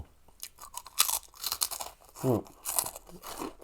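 Loud, close crunching of fully puffed, crispy fried pork crackling being chewed, with irregular bursts of crackle between bites and no talking.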